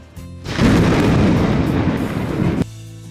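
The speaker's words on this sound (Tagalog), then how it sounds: "mukhang bubuhos ang malakas na ulan ngayon" A loud, close rumble of thunder rolls for a couple of seconds and then cuts off, leaving a quieter background.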